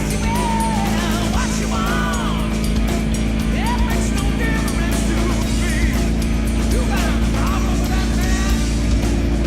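A motorcycle engine runs on a dynamometer at steady 60% throttle, a loud continuous drone holding an even pitch throughout, with faint voices audible beneath it.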